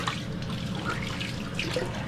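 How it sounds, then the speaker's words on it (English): Tap water running into a sink while hands are washed at home: a steady, even rush and splatter of water, continuous and close, with no talking. "Wash our hands."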